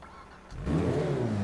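A video-game sports car engine, the Invetero Coquette D10 from GTA 5 Online, modeled on the C8 Corvette, fires up with a sudden burst and settles into a deep, loud, rumbling idle.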